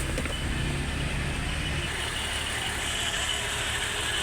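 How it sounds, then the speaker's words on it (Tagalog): A 2004 BMW X3 engine idling with a misfire, close up, giving a steady mechanical drone with an uneven low-end rhythm and a faint high whine, no voices over it. "Kita natin na palyado talaga yung kanyang makina."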